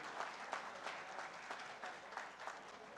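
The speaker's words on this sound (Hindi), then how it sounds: "एक जोरदार तालियां हमारे पूरे डिग्निटरीज ऑन द डायस के लिए" An audience claps for dignitaries on the dais at a speech in Khamgaon, with steady, fairly soft applause and rhythmic clap accents throughout.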